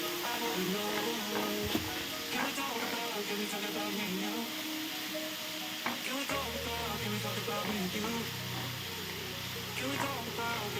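Sliced sausage sizzles and fries steadily in a pan while a spoon stirs and scrapes through it, with frequent sharp clinks against the pan; a low hum joins partway through, and a voice speaks over the cooking.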